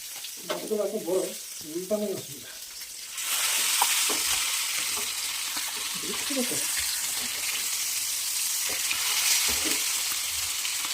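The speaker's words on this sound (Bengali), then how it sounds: "এই দেখো তোমার দাদা ভাইয়ের খুব শখ মাছ ভাজার" Sea fish frying in a hot pan, a steady loud sizzle filling most of the clip after a short stretch of speech, with occasional stirring scrapes and a voice talking softly underneath.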